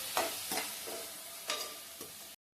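Onions frying in a pan while being stirred, a soft steady sizzle under repeated scraping strokes of a spoon, close and fairly quiet, ending in a brief silence with no talking.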